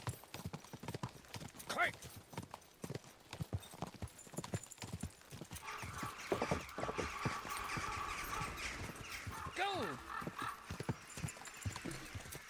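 A horse gallops with rapid, steady clip-clop hoofbeats during a race in Kingdom Come: Deliverance II, with a brief neigh near the end and excited voices calling out over it.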